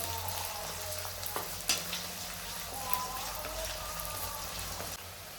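Garlic and ginger fry in oil for a mango pickle, a steady close crackle with a couple of sharp stirring clinks and scrapes, no voices over it.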